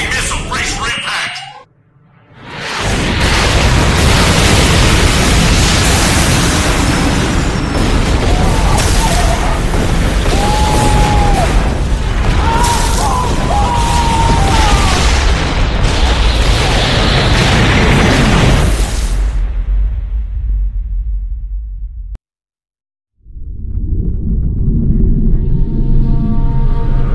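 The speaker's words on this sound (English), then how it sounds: "Incoming missile, brace for impact!" Missile impact explosions aboard a ship in the video game Turok, a long loud roaring rumble of blasts and debris lasting many seconds, followed by a sudden cut to silence and then talking.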